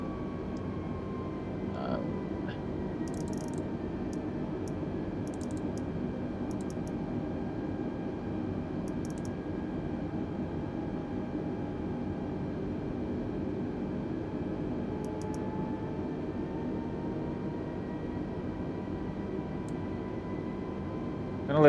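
Constant cabin-level roar of an Airbus A320neo engine in Microsoft Flight Simulator 2020, flying from Madeira to Lisbon, an even broadband hum with slowly drifting tones and sparse faint clicks throughout.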